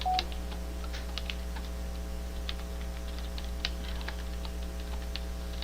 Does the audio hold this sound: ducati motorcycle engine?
no